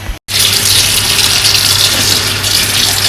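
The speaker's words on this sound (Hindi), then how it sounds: "अब मैं इसको वॉश करूंगी, वॉश करके गोश्त के अंदर ही ऐड कर दूंगी" Water gushes steadily from a tap as chopped taro root (arvi) is washed for an arvi gosht curry, a loud continuous splashing stream that starts abruptly after a brief pause and runs without talk.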